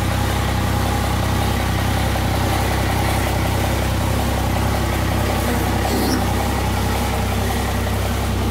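A diesel truck with a 24-valve P-pump conversion idles in a shop at night, a loud, steady, close rumble that holds unchanged throughout with no voices.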